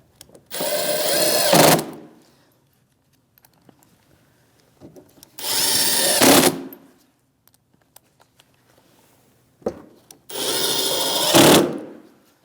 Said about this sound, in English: Same 7mm socket. 3 screws with the washers, and we'll tighten them right up.